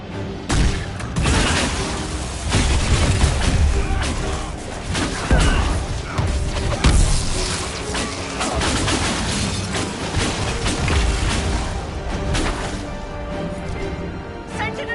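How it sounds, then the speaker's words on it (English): A trebuchet fires during a fortress battle in Dragon Age: Inquisition, with heavy crashes and booms buried in a dense, continuous din of fighting and shouting. "You get to the other trebuchet. It is firing."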